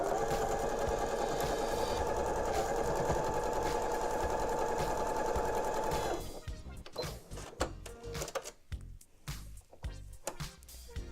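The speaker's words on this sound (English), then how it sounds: "we're going to use a 1/4 inch seam and sew these together" A sewing machine joins quilt patches with a quarter-inch seam, whirring loud and steady for about six seconds. It then stops, leaving scattered clicks and fabric handling with no voices.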